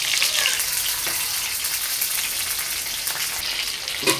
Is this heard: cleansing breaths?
no